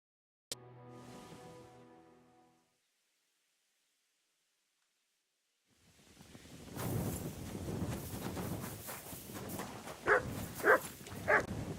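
After a brief tone and a quiet pause, a dog barks several times amid rustling and shuffling noise in the video game Kingdom Come: Deliverance II, the sharp yaps getting louder toward the end.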